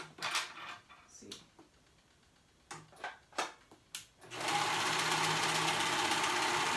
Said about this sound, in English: we're gonna go ahead and sew those shoulders on the raw edges